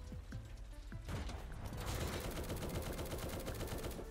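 Tank cannon and gunfire in the online military game War Tycoon, with dense, rapid bursts of shots and booms layered over continuous battle noise, growing louder and busier after the first second.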